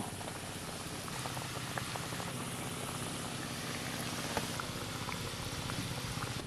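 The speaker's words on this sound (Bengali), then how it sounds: "সপ্তপুরি পিঠে ভাজা হচ্ছে" Palm-fruit saptapuri pitha deep-frying in hot oil, a dense, continuous bubbling sizzle close up that runs without pause, with no talking.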